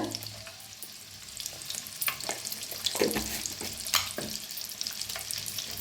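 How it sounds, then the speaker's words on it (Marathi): Eggs sizzle and crackle steadily in a hot pan, with occasional stirring scrapes and clicks over a continuous frying hiss, close and clear. "तर अंडी चांगली फ्राय करून घेऊया"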